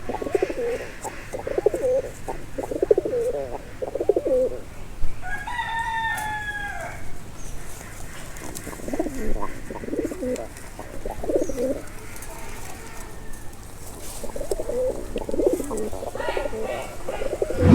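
Lakka pigeons coo in soft repeated bursts, with a sharper rising bird call cutting in near the middle.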